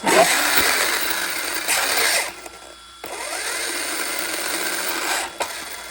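An RC car with a faulty sensored ESC driving its motor at full power in reverse, a loud close buzzing whir that surges, cuts out briefly, then returns and fades again.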